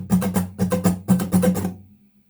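Acoustic guitar in an alternate tuning strums a rhythmic pattern with muted strokes: quick bursts in three groups, then a last chord left to ring out and fade, close and fairly loud, with no voices.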